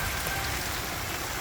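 Steady rain comes down outdoors, a dense, even hiss of drops striking surfaces. It holds at a constant, fairly loud level throughout, with no voices.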